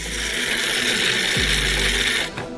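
An electric coffee grinder grinds roasted coffee beans, a loud continuous whirring and rasping close by, its motor tone shifting partway through before cutting off near the end.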